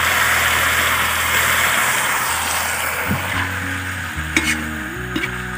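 Blended leaf paste frying in a pan for village-style local chicken curry, a loud continuous sizzle close by, with a low engine-like hum underneath and a few soft clinks toward the end.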